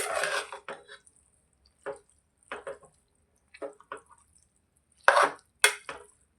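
Carrot halwa mixture with milk is stirred in a pan, scattered wet scrapes and clinks of a spoon against metal in short bursts separated by near silence.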